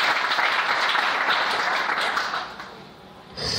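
A church congregation claps to acclaim the Lord, a dense, even wave of applause that fades near the end before a brief burst returns.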